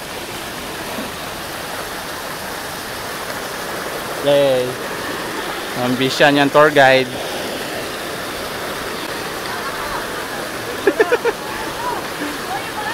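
A clear river stream near Kipot Falls rushes in a steady, even wash throughout, with people chatting and calling out over the flowing water now and then.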